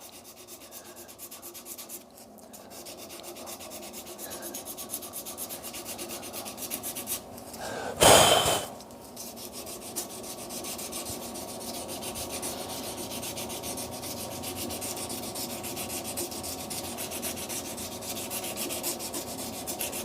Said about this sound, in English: So sand and buff and leave it, and that's it, Srdjan?